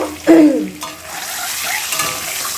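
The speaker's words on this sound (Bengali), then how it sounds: "ডিমগুলোকে প্রথমে ভেজে নেব" Eggs frying in hot oil for egg kalia, a loud burst of spattering right at the start settling into a steady close sizzle with faint utensil clinks.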